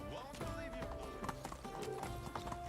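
A horse galloping in the medieval village game Medieval Dynasty, rapid rhythmic hoof clip-clops close by alongside game music and other layered sounds, at a moderate level across the short stretch.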